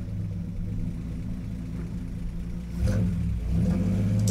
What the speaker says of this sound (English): which by the way is an amazing sounding Army fire truck